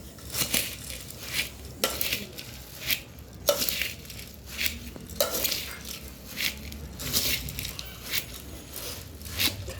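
Bhel of puffed rice gets stirred and tossed with squeezed lemon juice in a bowl, giving repeated crisp crunching and rustling bursts with light clinks, fairly close and quiet, in an irregular mixing rhythm.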